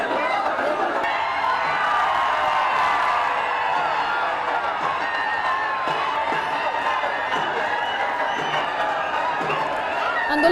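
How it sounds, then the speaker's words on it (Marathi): Maratha protesters pack Churchgate station in Mumbai during rain, a dense crowd roaring continuously with overlapping shouted slogans, cheers and whoops that stay loud and close throughout. "आंदोलकांकडून मोठ्या प्रमाणात घोषणाबाजी देखील देण्यात येते।"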